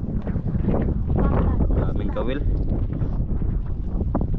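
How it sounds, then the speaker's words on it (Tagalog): Strong wind buffets the microphone in a constant rumble while someone talks over it. "Lakas ng hangin."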